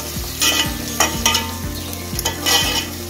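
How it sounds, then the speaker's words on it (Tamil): Onions sauté in a pan for prawn thokku, a steady close sizzle broken by regular scraping strokes of a spatula stirring about every half second, with a low tonal hum running underneath. "போட்டு நல்லா வதக்கி விட்டுருவோம்."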